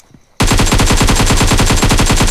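A Thompson submachine gun fires in PUBG during a mobile battle royale match: after a quiet moment comes a loud, close, sustained burst of rapid automatic shots in an even rhythm lasting about two seconds.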